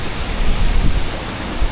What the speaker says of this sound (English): First waterfall of many on this trip.